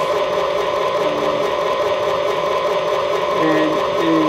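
Model FT diesel locomotive of the Santa Fe El Capitan on a layout, its onboard sound system giving a steady idling diesel rumble and whir with a few horn-like tones, continuous and close.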